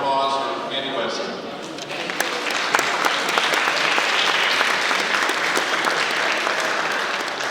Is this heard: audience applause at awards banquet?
yes